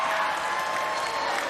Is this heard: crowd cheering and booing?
yes